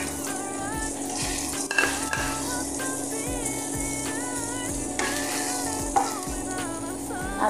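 Onions and garlic sauté in a hot pan, a loud continuous sizzle punctuated by occasional clinks and scrapes of a utensil stirring against the pan.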